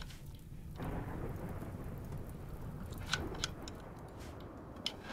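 Rain and thunder from the video game RimWorld: steady rainfall hiss with a low rumbling roll of thunder underneath and a few sharp ticks, at a fairly quiet level with no talking.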